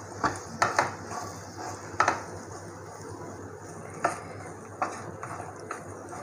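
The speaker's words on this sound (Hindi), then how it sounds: "अब इसमें हम ऐड करेंगे अपनी कटी हुई भिंडी और इसको प्याज के साथ अच्छे से मिक्स कर देंगे।" Chopped okra being stirred with onions in a pan, a few sharp utensil clinks and scrapes at irregular intervals over a soft steady sizzle, close and alone.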